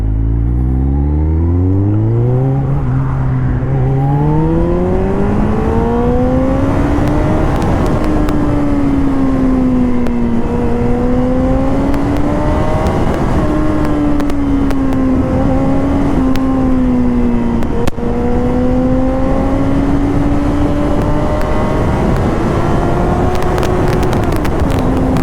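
A Kawasaki Ninja ZX-14R in F mode with traction control on full accelerates hard, its loud, close engine whine climbing through the gears in repeated rising sweeps with brief dips at each shift, over steady wind roar.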